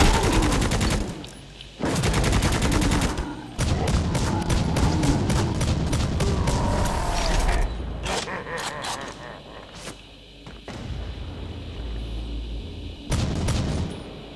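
Gunfire in the PC shooter Necromunda: Hired Gun as shots are fired at a bridge, loud rapid automatic bursts and repeated blasts that crowd the whole stretch with only brief gaps.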